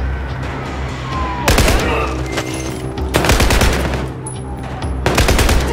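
Heavy automatic gunfire in a military shooter video game, firing in three loud sustained bursts with brief lulls of quieter battle noise between them.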